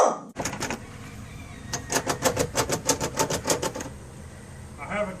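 A shotgun pump action worked in a home-defense setting: a quick run of dry, clicking mechanical clacks, close and moderately loud, with someone talking before and after.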